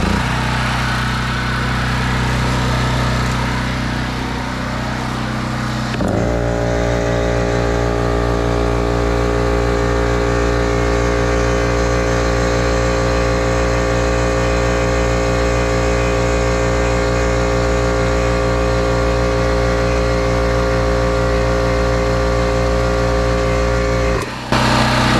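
A Predator portable generator engine starts and settles into a steady, loud running drone with a rough low rhythmic throb, holding constant for most of the stretch before cutting off near the end.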